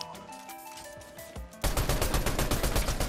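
Fortnite gunfire, heard at a vault inside the game: sparse shots over music, then from about halfway a dense, loud burst of rapid automatic fire that continues to the end.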